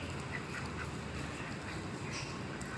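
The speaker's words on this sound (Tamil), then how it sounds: "நம்ம வீட்டுக்கிட்ட எத்தனை வெள்ளை வாத்து மேயுதுன்னு" White ducks quack softly near a house amid constant outdoor background noise, with scattered calls and no talking.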